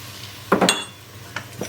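Milk going into a pot of flour while making creamy chicken soup, with a few close metallic clinks and scrapes of utensil against the pot in a quick cluster, then two lighter taps.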